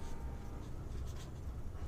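A correction is written by hand during a surveying calculation, with soft, faint pen-on-paper scratching in short strokes close to the microphone.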